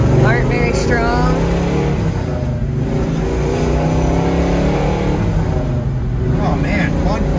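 An old big car drives along and accelerates, its mid-pitched engine rising steadily and staying loud and close throughout, with a person talking over it.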